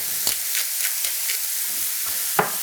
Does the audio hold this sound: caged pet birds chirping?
no